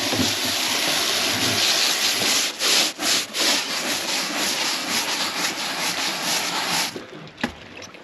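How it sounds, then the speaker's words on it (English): Scrubbing barnacles off the hull of a Stryker PRO 420 boat, a loud close rough rubbing with a few brief pauses between strokes, fading toward the end. "doing a little bit of scrubbing here."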